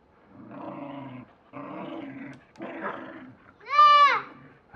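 A dog growls in play-wrestling: three sustained rough growl bursts close to the microphone, followed by a louder, higher whining yowl.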